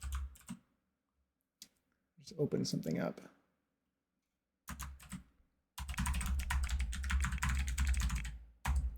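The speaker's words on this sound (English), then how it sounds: "The keys sound slightly different than my old keys" Computer keyboard typing in bursts of rapid clicks, with a dense stretch of keystrokes in the second half; a person speaks briefly between the bursts.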